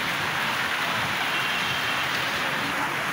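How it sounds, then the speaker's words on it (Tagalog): Heavy rain pours in a steady, dense roar during a downpour bad enough to flood the place, loud and continuous with no break, and low rumbling underneath. "Lakas ng ulan."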